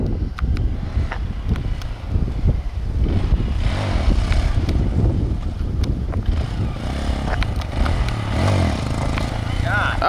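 A Honda Grom motorcycle engine revs and buzzes off-road, rising and falling at moderate distance amid wind buffeting on the microphone, with people talking and cheering over it.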